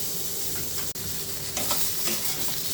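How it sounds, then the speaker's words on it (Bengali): Eggplant and potato pieces frying with turmeric in a pan, a close, continuous sizzle and crackle with a few stirring scrapes and one brief dropout partway through. "ভেজে নিচ্ছি"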